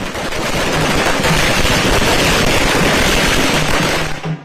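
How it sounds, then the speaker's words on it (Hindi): Dense, continuous crackling of firecrackers going off in rapid bursts at a welcome celebration with drums, loud and close, for several seconds before abruptly thinning out at the end. "ढोल नगाड़े के साथ जमकर आतिशबाजी।"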